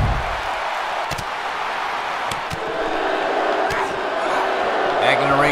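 A wrestling crowd in Miami, Florida boos in a steady, dense roar that swells slightly toward the end, with an announcer talking over it and a few sharp thuds from the ring.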